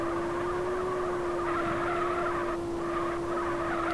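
Engine of a Toyota SC300 with manual transmission at full throttle on the Mount Akina mountain pass in GTA, a steady droning howl held for several seconds, with a faint tire squeal rising midway.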